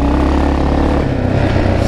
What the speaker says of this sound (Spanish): es una moto que tiene 35 años, bastante bien está funcionando